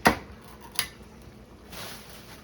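A spoon stirring chili sauce in a pot, with a sharp clink at the start, another scrape shortly after, then a soft wet swish, close and fairly quiet.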